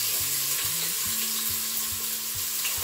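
White and red onions fry in a Crockpot Express pressure cooker with a steady, close hiss, while low intermittent thuds and hums from stirring or the appliance run underneath.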